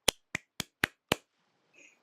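Five sharp, evenly spaced claps ring out close and crisp in the video game Genshin Impact, followed by a faint soft chime, with no talking.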